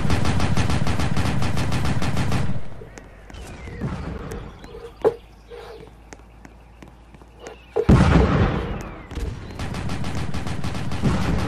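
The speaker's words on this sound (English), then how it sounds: "Grenade. I saw a grenade." Dense automatic gunfire in Roblox MilSim breaks off, then sparse shots and pops follow before a loud grenade explosion hits and heavy gunfire resumes.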